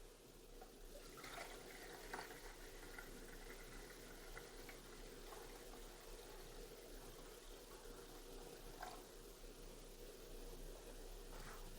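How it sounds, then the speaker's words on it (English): Water poured steadily into an eye model during an accommodation lab demonstration, a continuous close splashing and trickling that holds at an even level for the whole stretch with no voices over it. "So putting the water."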